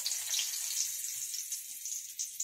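Asafoetida and a bay leaf hit hot oil as a Bengali tempering for cabbage ghonto, giving a steady, close, loud hissing sizzle that holds throughout without talk.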